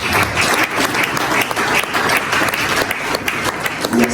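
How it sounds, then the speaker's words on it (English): An audience bursts into sustained, lively clapping at a public speaking event, loud and continuous with a light crowd murmur beneath. "And I think we should clap ourselves."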